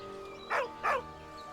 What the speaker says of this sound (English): With a deep, heartbroken whine, the dog bows his head.